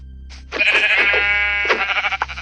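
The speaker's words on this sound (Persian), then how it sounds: "وای سه گوسفند" Sheep bleating in a video game, a loud close wavering cry starting after a short pause and sustained to the end, alone without talk.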